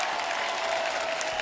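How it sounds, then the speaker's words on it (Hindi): A studio audience at a comedy talk show gives the guests a brief, steady round of applause, a full even patter of many hands. "एक बार जोरदार तालियां हमारे मेहमानों के लिए हो जाए"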